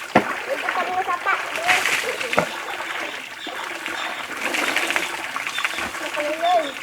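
Water splashes and sloshes in a creek at close range, with intermittent splatters and trickles while people talk over it.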